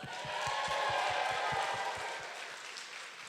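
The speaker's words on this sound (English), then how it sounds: "Please give them a round of applause." A crowd applauding steadily at a celebration dinner party, dense clapping that swells and then gradually thins out toward the end.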